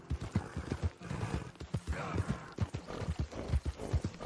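Horse hooves clip-clopping in the Red Dead Redemption video game, a quick rhythmic trot of distinct hoof beats heard close and fairly quiet throughout.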